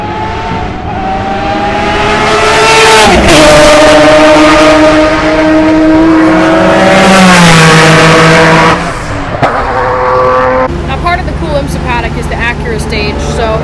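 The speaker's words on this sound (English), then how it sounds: "So we're gonna go check out some of the vintage racing and see the cars." Vintage race cars thunder past at the Monterey Motorsports Reunion, with loud rising and falling engine notes sweeping by, one after another, and crowd chatter mixed in behind.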